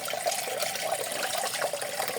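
Cold tap water runs steadily over boiled pasta noodles being rinsed in a kitchen, a continuous close splashing hiss that lasts the whole moment with no talking.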